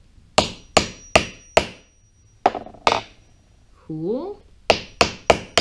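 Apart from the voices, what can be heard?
hammering a snap stud through fabric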